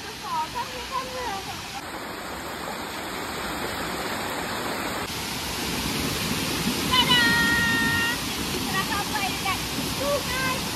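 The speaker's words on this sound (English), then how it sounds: "Waterfall." Waterfall at Sungai Pisang, a constant broad rushing roar of falling water close by, with brief voices and bird-like chirps over it.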